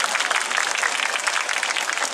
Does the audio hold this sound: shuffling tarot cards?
no